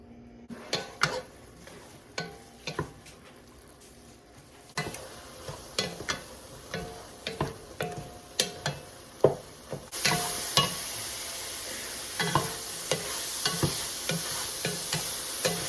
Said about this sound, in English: I'm just trying to let it get a good char on the veggies and the smoked sausage